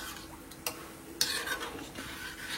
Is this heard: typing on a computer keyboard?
no